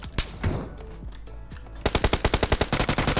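Gunfire in the mobile game PUBG Mobile on a Bedwars map: a few scattered single shots followed by a rapid automatic burst of evenly spaced, loud cracks, with no talking.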